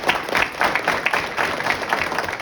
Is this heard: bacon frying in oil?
no